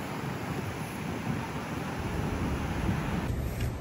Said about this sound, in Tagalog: Sobrang lakas ng hangin na may ulan.